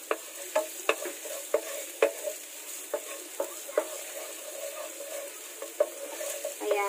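Onion sautéing in a pan over low-medium heat, a gentle sizzle punctuated by regular clicking scrapes of a spoon stirring, roughly every half second, close by.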